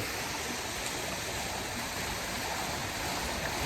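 Water flows steadily near a row of houses, a continuous even rushing like a stream or small waterfall, with no voices.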